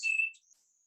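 Song sparrow song: a brief fragment with a clear, high whistled note followed by a fainter, thin buzzy trill, heard alone and fairly close.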